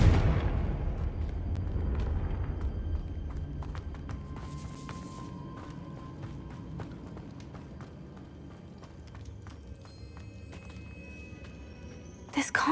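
Confringo blasting spell explosion in a Harry Potter game, a loud low rumbling burst at the start that fades into scattered clattering debris and ambient game noise.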